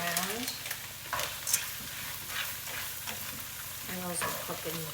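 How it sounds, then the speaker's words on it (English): Frozen peas being stirred in a pan, giving scraping utensil strokes and a soft sizzle at moderate level, while someone talks over them. "I'll just stir it"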